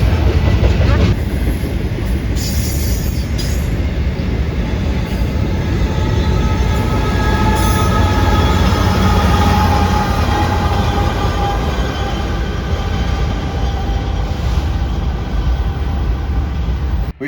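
Freight train cars rolling through the BNSF rail staging yard in Minot, North Dakota, a loud, steady rumble with faint wheel clatter and occasional squeal that lasts throughout.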